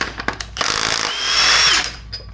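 Half-inch impact wrench removing a worn crank pulley from a Subaru WRX STI during an engine tear-down: a few short hammering bursts, then a sustained loud rattling whine that fades out, close up with no talk.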